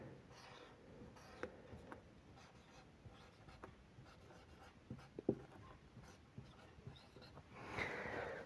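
Pen writing on paper in careful handwriting, faint soft scratches and small taps of separate strokes, close but quiet, with a light rustle toward the end.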